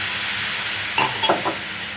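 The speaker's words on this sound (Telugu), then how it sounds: "ఇప్పుడు మనము కొంచెం వాటర్ వేసేసుకొని" Water goes into a hot pan while an egg chaat cooks, with a steady frying hiss that flares into a brief burst of sizzling and stirring near the middle before settling back.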